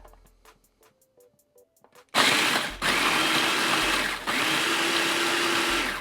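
A blender grinds Reese's peanut butter cups into fine crumbs, bursting in loud and harsh after a few quiet clicks, with two brief dips as it roars on.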